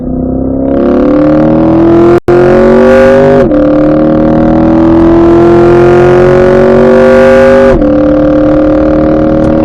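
A Chevrolet C8 Corvette accelerates hard on a race track, its engine note climbing loud and close through several upshifts with brief dips between gears, and no voices over it.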